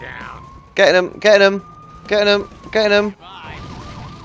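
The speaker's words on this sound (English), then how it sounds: "I can press L or to turn the sirens on and off." A wailing police siren in the video game Lego City Undercover rises and falls steadily while a voice speaks in short bursts over it; the tone is clean and synthetic.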